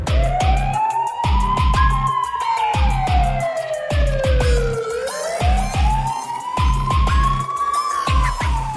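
A 108 government ambulance siren wails loudly and continuously through a chase, its pitch sweeping slowly up and down, with a regular pulsing beat running beneath it.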